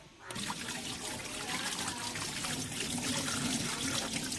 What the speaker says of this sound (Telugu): నీళ్ళు పోసి చూడాలి ఇది లీక్ అవుతుందో లేదో